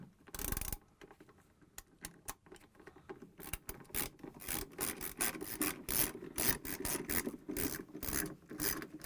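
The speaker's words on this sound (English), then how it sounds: "I'm going to use the 7mm socket wrench, and I'm going to tighten the screws." A 7mm socket wrench tightens screws on a Whirlpool washer gearcase, giving close, repeated ratcheting clicks in quick irregular bursts with short pauses between them.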